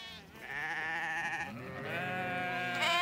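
Ewes and lambs bleat repeatedly in a dairy sheep pen, loud, close, overlapping calls that carry on steadily throughout.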